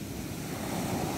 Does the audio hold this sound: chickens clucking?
no